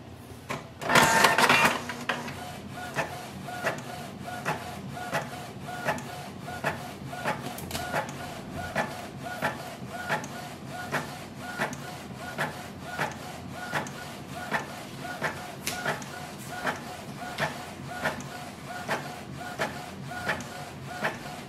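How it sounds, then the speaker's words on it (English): A Canon Pixma G650 inkjet printer runs a print job, opening with a louder mechanical burst, then settling into steady, evenly spaced clicks and whirs as the carriage sweeps back and forth, close and clear with no voices. "Click on the print icon, select your printer G600 series and click print."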